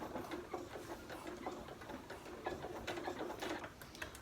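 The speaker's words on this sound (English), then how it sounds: "now I'm going to edge stitch this with the top stitching thread and a top stitching needle" Sewing machine edge stitching with heavy top-stitching thread and needle through four layers of denim, a soft, steady rapid ticking and whirring, faint and close, running without talk.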